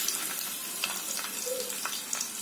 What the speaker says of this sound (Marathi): आता तेल तापलंय, त्याच्यामध्ये लसूण टाकते.